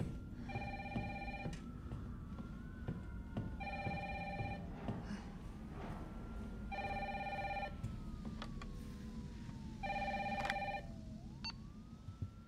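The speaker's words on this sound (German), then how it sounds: "Oh, Telefon." A telephone rings in Resident Evil 3, four evenly spaced bursts of an electronic ring over a low ambient drone, with a faint wavering siren-like tone in the background.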